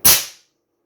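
A single shot from an FX Maverick VP .25 air rifle with a slug power kit, a short sharp close crack that dies away quickly, alone.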